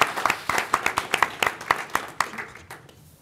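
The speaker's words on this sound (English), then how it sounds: "I think you deserve a round of applause." A small audience at a commission briefing claps in a quick, scattered burst of distinct hand claps that thins out and fades within a few seconds, with no talking.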